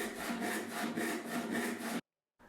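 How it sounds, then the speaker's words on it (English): A freshly sharpened hand saw cuts through oak in quick, loud, rhythmic rasping strokes, close up, stopping abruptly before a brief quiet gap and a faint return of sound. "it's like a hot knife through butter, nothing better than a freshly sharpened saw"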